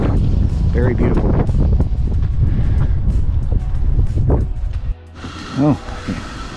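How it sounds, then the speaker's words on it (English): Strong wind buffets the microphone in a constant low roar while a person talks over it outdoors in a canyon, easing slightly near the end. "A little windy out here"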